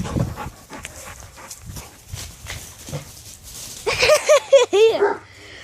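Dogs play and pant nearby, with quick rhythmic breathing and scuffling, then a cluster of short high whimpers and yelps near the end; a person speaks briefly in the background.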